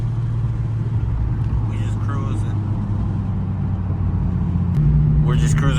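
A Nissan 350Z cruises through a residential neighborhood on a hot sunny day, its engine holding a steady low drone with a shift in pitch near the end, with some faint background activity mixed in.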